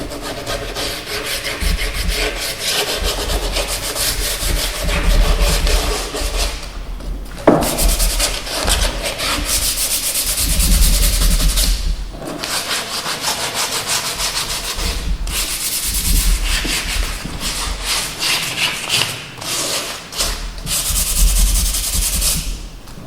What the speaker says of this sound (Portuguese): feito esse lixamento